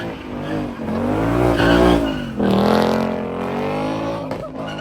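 Car tires squealing as a car spins at a car meet, a loud, wavering, close-up screech that rises and dips with the engine throughout, with crowd noise faintly underneath.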